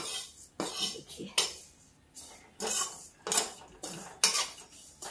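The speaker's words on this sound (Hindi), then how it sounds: "अब इसको हम भून लेते हैं।" Metal spoon scraping and clinking in a pan as raisins, coconut and chironji are stirred and dry-roasted, in repeated rhythmic strokes, close and moderately loud with no voices.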